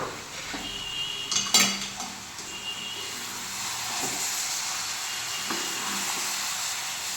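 A spoon scrapes and clinks against a pot of simmering Andhra-style fish curry, a few close metallic knocks over a steady bubbling hiss.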